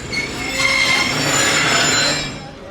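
HGMU train departing on the main line at Khanpur station, a loud grinding rumble with high metallic wheel squeal that swells and fades over a few seconds.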